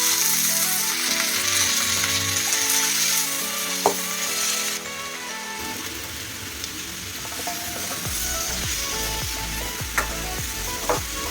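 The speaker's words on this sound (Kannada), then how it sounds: "ಈರುಳ್ಳಿನ ಇವಾಗ ಚೆನ್ನಾಗಿ ಫ್ರೈ ಮಾಡ್ಕೋಬೇಕು" Onions and drumstick leaves fry in a pan with a loud, continuous sizzle, broken by occasional stirring knocks and scrapes; the hiss shifts in tone partway through.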